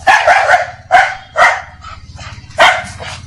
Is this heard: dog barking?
yes